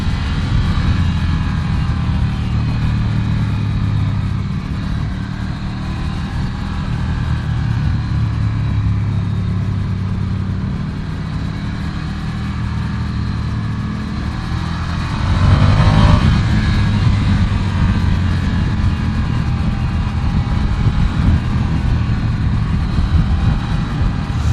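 Ducati Scrambler Desert Sled motorcycle riding on a mountain road, a steady low engine drone with wind rumble, rising briefly in a rev partway through, heard from on board.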